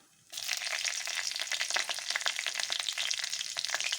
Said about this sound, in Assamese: এয়া তেল গৰম হৈ গৈছে, ইয়াত মই জিৰা কেইটামান দিছোঁ। কেঁচা জলকীয়া 2টা দিছোঁ